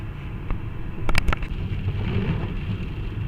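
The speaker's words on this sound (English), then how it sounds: "And yes, the rain's back, of course." Rain falls steadily during a car drive, a constant close hiss of water and road noise, broken by a few sharp knocks and bumps around the one-second mark.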